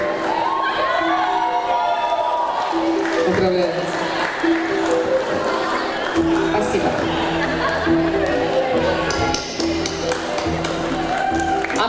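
Audience at an anime fan festival award ceremony applauding and cheering, steady clapping and crowd noise throughout with a voice speaking over it.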